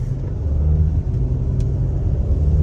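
A Mercedes GLE AMG engine pulls on a slushy, snowy road, a steady low rumble from inside the cabin with slight swells as the throttle is pressed.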